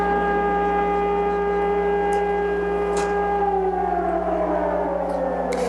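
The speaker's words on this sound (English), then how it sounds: "Israelis heard the sound of air sirens for the second time in 20 hours early this afternoon" An air raid siren in Israel wails as a steady, sustained tone that slowly falls in pitch toward the end, heard from a distance over a constant low hum, with no talk.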